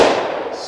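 A single sharp, loud 10mm gunshot from a Glock 20 Gen 5 pistol, a close crack followed by a brief fading boom.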